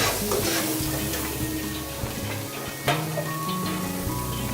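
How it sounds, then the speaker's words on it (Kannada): Greens and green chillies frying in a little oil, a steady close sizzle with a few clinks and stirring scrapes, continuous and fairly loud. "ಸ್ವಲ್ಪ ಆಯಿಲ್ ಹಾಕ್ಬಿಟ್ಟು ಸ್ವಲ್ಪ ಫ್ರೈ ಮಾಡ್ಕೊಳ್ತೀನಿ ಮ್ಯಾಮ್"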